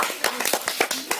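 A few sharp hand claps snap out in a quick, uneven rhythm, close and crisp, with short gaps between the strikes.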